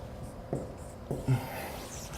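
A pen writes on paper for a math homework solution, a few faint scratchy strokes in short bursts over quiet room tone, with a brief soft voice sound near the middle.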